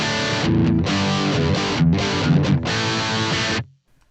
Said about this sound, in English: Like that is a really good Marshall-y sound.